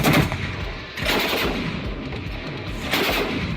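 A powerful gun firing 14.5x114 mm anti-tank cartridges booms loudly in a few heavy blasts, each followed by a long rumbling echo outdoors, with no talking.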